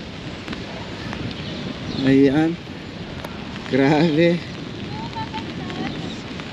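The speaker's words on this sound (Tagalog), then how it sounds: "kahit naulan pero hindi hadlang dahil malakas talaga yung hangin" Strong wind and rain outdoors in Taipei: a constant broadband rushing hiss runs throughout, while someone talks over it in two short bursts.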